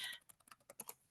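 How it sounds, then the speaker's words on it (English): Someone types on a computer keyboard, a quick run of about eight faint, close, crisp key clicks in an uneven rhythm, heard alone. "I'm typing that into the chat right now"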